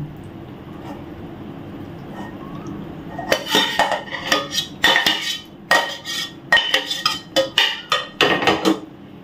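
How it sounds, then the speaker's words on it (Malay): Coconut milk being mixed into a young jackfruit kerabu salad, with a spoon scraping and clinking against a bowl in irregular bursts, close and fairly loud after a quiet start. "Kita bubuh semua sekali, kita gaul."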